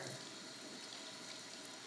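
Lukewarm water runs steadily from a tap while hair is rinsed during a men's hair and beard colouring, a quiet, even hiss of flowing water with no voices.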